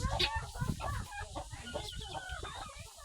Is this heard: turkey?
yes